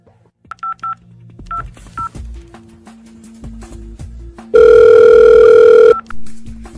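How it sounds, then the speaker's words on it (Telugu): A telephone keypad dials a call to the police: a few quick DTMF beeps, then separate single tones, followed by a loud steady dial or ring tone lasting over a second, close and clear with no talking. "పోలీసు వాళ్ళకి ఫోన్ చేయరా"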